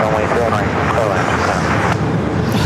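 An airliner's broad jet roar on the runway at JFK airport, loud and steady, with a voice talking over it the whole time.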